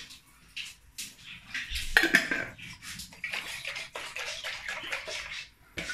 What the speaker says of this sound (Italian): inserire l'acqua con lo sciacquaggio del vaso